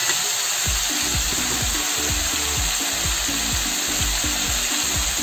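Green chillies go into a pan of vegetable curry with ridge gourd, beans and potato, and the frying sizzles steadily under a rapid, repeated clatter of stirring that continues throughout.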